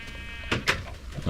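Two short sheep bleats from Minecraft, a video game, sound close together over a quiet, steady background, with a faint third bleat near the end.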